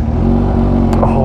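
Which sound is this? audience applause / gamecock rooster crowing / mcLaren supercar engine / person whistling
mcLaren supercar engine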